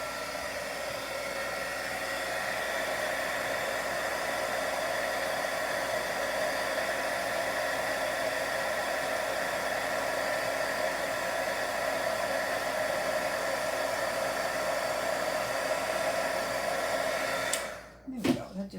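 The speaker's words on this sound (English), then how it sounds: "let me just do a little bit of the heat tool on it" A heat tool blows steadily to set embossing powder on a gold card, a continuous close whooshing hiss that holds even for many seconds before cutting off abruptly with a small clatter at the end.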